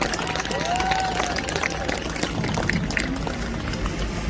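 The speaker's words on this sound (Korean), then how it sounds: "박수 한번 크게 환영해 주세요." A rally crowd in front of the Jinan bus terminal applauds to welcome former National Assembly member Yoo Sung-hyuk, a dense, steady wash of clapping with crowd voices mixed in throughout.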